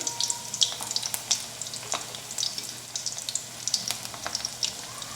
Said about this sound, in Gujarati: આ જ રીતે આપણે બાકીના બધા જ મુઠિયા તળીને તૈયાર કરી લઈએ